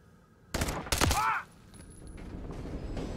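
Gunfire in Call of Duty Modern Warfare 3: two loud close bursts of shots in quick succession, followed by a quieter stretch of distant battle noise and ambience.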